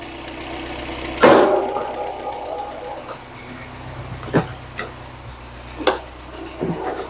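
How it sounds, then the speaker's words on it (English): A Ford Cosworth 3-door idles nearby with one noisy lifter: a steady low engine hum with faint ticking, a loud clunk early on, and a few sharper knocks scattered later. "It's got one noisy lifter which will go off, I would think."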